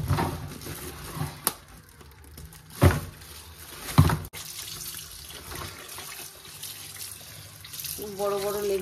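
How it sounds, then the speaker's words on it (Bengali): Tap water runs into a kitchen sink while raw chicken is washed before being fried, a steady close splash with a few sharper knocks and clatters, and a voice speaks over parts of it. "তো চিকেনটা একটু ধোবো, চিকেন ফ্রাই করবো ইফতারের টাইম।"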